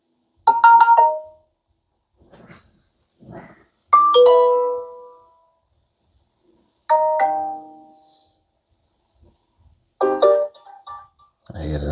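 Several short chiming notification tones from a Motorola G Stylus 2024 phone, loud and close, played one after another in separate bursts with gaps of silence between them.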